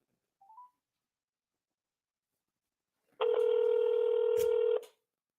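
Telephone keypad tones sound while calling a U.S. senator's office: one short faint beep, a quiet gap, then a single louder electronic tone held steady for over a second.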